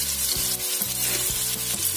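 Food frying in a pan over a medium flame, a continuous loud sizzle with soft stirring taps, close and without talk.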